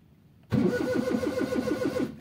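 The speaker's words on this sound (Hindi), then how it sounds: "देखें गाड़ी स्टार्ट नहीं हो रही" A Suzuki Mehran car's starter cranks its engine in a steady, repeated churning rhythm that begins abruptly after a short quiet moment, loud and close, without the engine catching.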